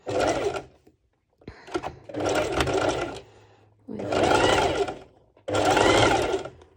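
A domestic sewing machine sews zigzag stitches set to width 3 along a curved bikini-top ruffle, running in four close, loud bursts of rapid needle chatter separated by short pauses.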